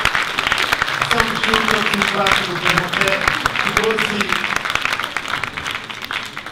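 Audience applause at an entrepreneurship awards ceremony, a dense steady wash of clapping that runs the whole time while someone speaks over it.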